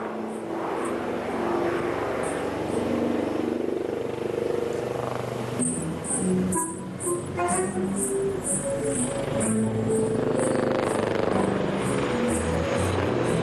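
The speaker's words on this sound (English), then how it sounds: "Keep looking as the helicopter turns to carry out a steep turn again." A military helicopter banks through a steep turn at an Indian Air Force Day air show, its steady rotor thrum and engine whine carrying from a distance under a commentator's voice, with a rhythmic high chopping pattern.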